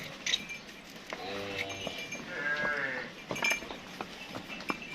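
Nili water buffaloes give a couple of low, drawn-out moos close by in Pakpattan, with faint clinks and farmyard noise around them.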